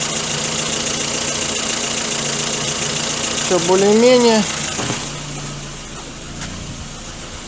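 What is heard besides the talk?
Lada Kalina engine idling with burnt exhaust valve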